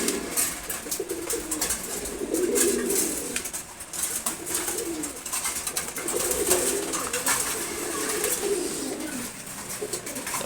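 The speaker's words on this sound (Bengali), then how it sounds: "তারপর এখানে আছে চিলা আর রেসার কবুতর" Chila and racer pigeons coo in a close loft, their low throaty calls repeating in soft overlapping waves with light rustling between them.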